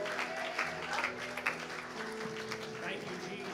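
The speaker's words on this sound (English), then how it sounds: "Let's give the Lord a good round of applause." Applause from a church congregation during a Sunday praise and worship service at a chapel, a steady patter of clapping that runs the whole time with sustained music and voices underneath.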